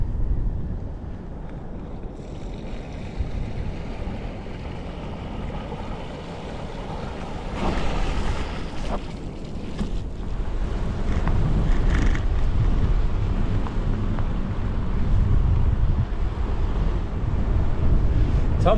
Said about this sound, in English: Tumbling surf.